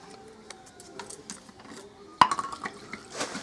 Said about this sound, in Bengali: এবার দানাগুলোকে এখন আমি প্রথমে ধুয়ে নেব।